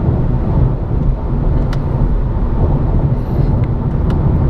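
A 2017 Honda Civic EXL 2.0 is floored in manual mode, filling the cabin with a loud, steady engine-and-road roar that holds constant throughout, with no talking.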